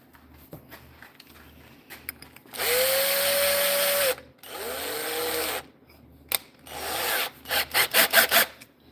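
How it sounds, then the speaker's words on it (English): A power drill bores into wood in several loud bursts of whining, grinding noise, ending with short rapid pulses of the trigger. "we're going to drill halfway"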